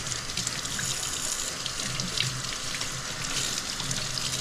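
Tap water runs steadily and close by, splashing into a sink as an AeroPress coffee maker's paper filter is scrubbed, a continuous hiss with no talk.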